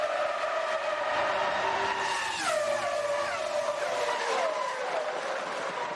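Formula 1 cars race at a restart, their high-pitched engines whining and sweeping down in pitch as they pass, with layered engine tones and no voices.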